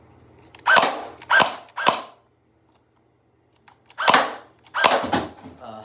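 A Nerf Pro Gelfire gel blaster fires in semi-auto, five sharp snapping shots in two groups, three quick ones then a pause and two more, each a close, loud crack with a brief mechanical rattle against near silence.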